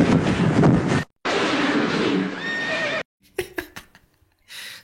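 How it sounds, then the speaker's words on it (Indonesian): A horse in an animated scene lets out loud neighs and whinnies in two long bursts, followed by a few sharp hoof-like clatters and a brief final cry. "Siva pun mulai membajak salah satu kuda tercepat di planet perindapan"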